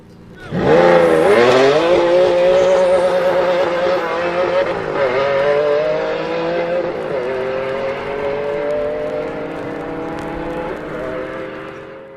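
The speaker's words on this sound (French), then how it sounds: "Je vous laisse écouter le V12 italien." Maserati MC12 with a modified Ferrari Enzo V12 revs hard and loud, its rising harmonic engine note climbing then holding steady through sustained high revs for the full length, with no talk over it.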